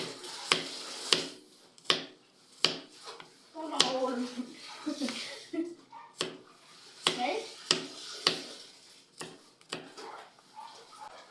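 A knife chopping onion and garlic on a board gives crisp, separate chops in an uneven rhythm, close by and fairly clear. A person talks between the cuts.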